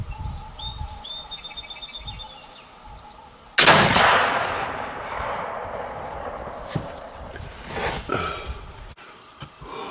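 A single loud, close black powder shot from a Tennessee Mountain Rifle muzzleloader at an outdoor range cracks sharply, then a long rumbling echo and smoky decay follow, with birds chirping faintly beforehand and wind in the background.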